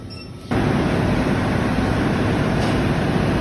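A steady, loud rumble starts abruptly after a moment of quieter background and continues evenly, like a train running close by, at Hua Lamphong station in Bangkok.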